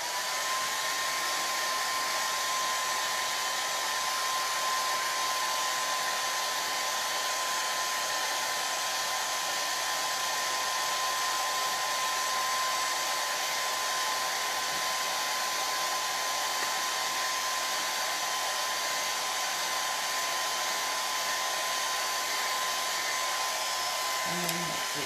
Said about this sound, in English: I'm gonna blow dry these a little bit more